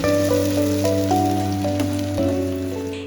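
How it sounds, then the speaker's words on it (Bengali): Onions and garlic paste fry steadily in hot mustard oil for a dried lohita fish and jackfruit seed curry, a loud, dense, continuous sizzle with faint crackles, while steady tonal background music plays throughout. "পেঁয়াজ হালকা ভাজা হলে এতে ১ চামচ রসুন বাটা দিয়ে আবারও ভালোভাবে ভেজে নিন।"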